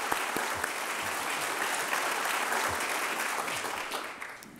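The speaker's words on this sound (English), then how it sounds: "So I think we should give the two coordinators a round of applause." An audience at a conference opening session applauds the coordinators, with steady, dense clapping that fills the room for several seconds before starting to fade.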